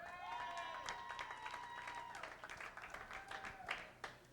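A small crowd applauds and cheers for a child named Austin on a flag football team, steady clapping throughout with voices mixed in and a whistling tone near the start.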